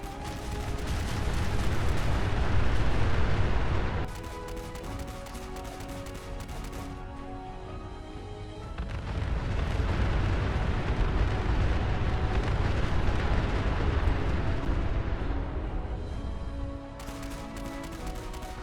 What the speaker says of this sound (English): I just like firing it up into the air and watching all the devastation around me